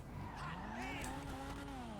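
Toyota Supra in GTA Online, engine revving with a rising and falling tone while tires squeal and skid, a short loud burst of driving noise.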